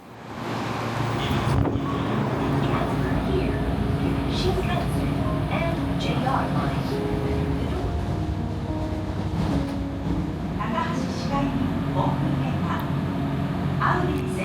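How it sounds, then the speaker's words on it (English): A continuous rumbling, rattling ride noise with steady low hum and occasional clanks and squeals from inside a moving train in Osaka, Japan, heading from Sunshibashi Station towards Minokayano Station. "We boarded a train from Sunshibashi Station towards Minokayano"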